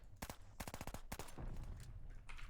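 Several quick bursts of broomstick pistol shots in the video game Call of Duty: Vanguard beta, sharp cracking reports in rapid clusters separated by short gaps, followed by a lingering noisy tail.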